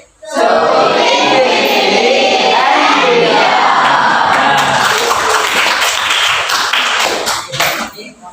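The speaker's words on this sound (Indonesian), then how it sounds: "Ya, tadi tepuk pramuka." A group in an Islamic religious education class claps the Indonesian scout clap pattern (tepuk pramuka), a loud, dense burst of rhythmic hand clapping mixed with children's shouts lasting several seconds before trailing off.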